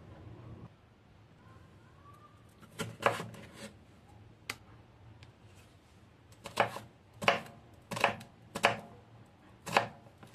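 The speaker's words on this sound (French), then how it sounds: "Je vais couper les choux en tranches, en julienne et puis en petites cubes." A knife chops cabbage and carrots into small cubes on a board, a run of crisp, close knocks: a couple of isolated strikes, then a brisk regular series of sharp chops with quiet gaps between.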